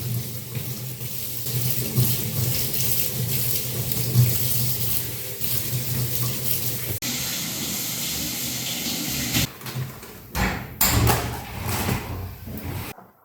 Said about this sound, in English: Wash the pork, then cut it into small pieces.